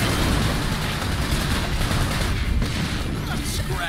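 Gunfire in the video game Sunset Overdrive: a dense, continuous barrage of loud rapid shots and bursts that fills the whole stretch, close and harsh, with a voice faintly present beneath.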